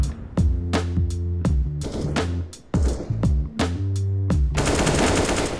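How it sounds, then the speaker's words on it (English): Gunfire in the CS:GO video game, shot through a small piece of wood on the Vertigo map: a loud, close string of about nine sharp gunshots with short echoing tails, then a burst of noisy rattle at the end. "Kickert with an intelligent wallbang towards sandbags on Vertigo."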